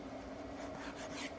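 A knife slices through raw bacon on a cutting board while bacon and Brussels sprouts are prepared for roasting, giving a short, close rasping scrape with no talking.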